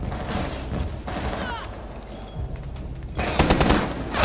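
Gunfire in the first-person shooter Rainbow Six Siege crackles in bursts, scattered shots early on and a louder, denser volley near the end.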